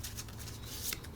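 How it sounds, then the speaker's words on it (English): Kitchen Witch oracle deck cards being given a vertical shuffle, a soft, steady papery riffle and rub that runs close and continuous with no talking. "So I'd probably do a vertical shuffle."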